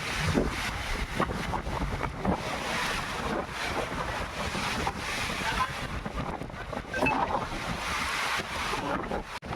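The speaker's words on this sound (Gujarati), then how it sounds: "ઓ મિત્ર આમ જોવો ખાલી પવન જોવો." Strong storm wind roars steadily throughout, buffeting the microphone with gusty rumble and rustling of trees, loud and close, with no voices.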